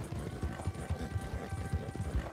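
Appaloosa horse hooves from the video game Red Dead Redemption 2 clop in a steady, rapid riding rhythm, close and moderately loud.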